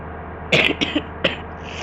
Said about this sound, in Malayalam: എനിക്ക് കുറച്ച് ചുമൊക്കെ ഉണ്ട്.